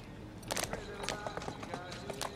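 Horse hooves clip-clop through the streets of Victorian London in Assassin's Creed Syndicate, a quick run of crisp, close hoofbeats over faint background ambience.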